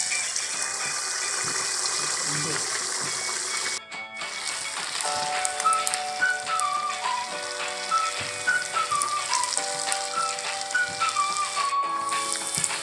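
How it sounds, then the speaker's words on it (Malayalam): Neypathiri dough sizzles and bubbles steadily in hot oil, a continuous crackling fry broken by one brief pause, with a faint melodic tone running over it, and no speech. "ഇനി ഇത് ചൂടായ എണ്ണയിലേക്ക് ഫ്രൈ ചെയ്തെടുക്കാം"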